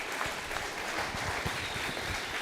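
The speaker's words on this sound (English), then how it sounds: "let's give Angela one more round of applause." Audience applause at the close of a science and technology talk, a dense steady wash of many hands clapping at moderate volume throughout, with no voices over it.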